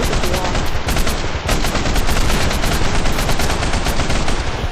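Machine gun fire in a video game, a dense, loud, continuous burst of rapid automatic shots with no letup throughout.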